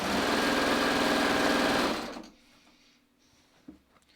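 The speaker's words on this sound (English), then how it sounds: "So literally I'm just going to sew those two side seams." A sewing machine stitches the side seams of a garment lining in a steady, loud, rapid whir for about two seconds, then stops, leaving a quiet room with a faint click near the end.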